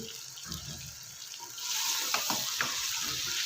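Mutton fries in a pressure cooker with yogurt and tomato, sizzling steadily, and the sizzle grows louder and hissier partway through as the mixture is stirred.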